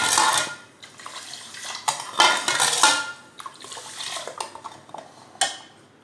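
A spoon beats a sugary basil-seed sherbet mixture in a bowl, producing quick, uneven clinks and scrapes of metal against the dish in bursts, close and moderately loud with brief pauses between.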